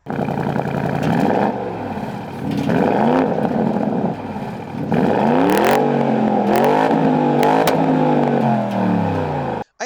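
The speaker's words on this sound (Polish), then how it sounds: "przyjemnie jest przycisnąć i posłuchać tego strzelania z wydechu" A Porsche Cayenne GTS V8 engine revs hard through several gear changes, rising and falling, with sharp exhaust pops and crackles between the pulls.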